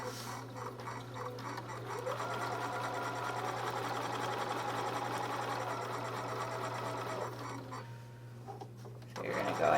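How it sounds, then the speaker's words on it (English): A quilting sewing machine stitches down the side of a fabric triangle along a marked line, a steady close whirring hum that runs for about seven seconds and then stops. "I'm just going to sew down the other side of my triangle right on the yellow line."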